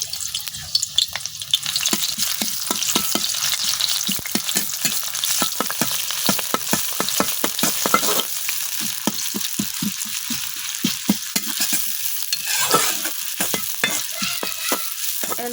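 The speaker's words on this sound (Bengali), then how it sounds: "এখন আমি তেলের মধ্যে দিয়ে দিতেছি কাইটার হাফ পেঁয়াজ।" Half a sliced onion frying in hot oil in a wok, giving a loud, steady sizzle broken by rapid scraping strokes of stirring, with no voices.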